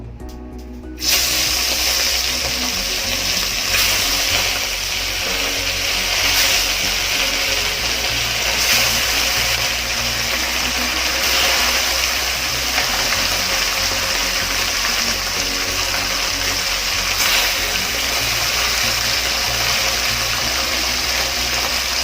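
Small fasha fish dropped one by one into hot oil seasoned with salt, a steady broadband sizzle and hiss filling the whole stretch at close range, with no talk over it.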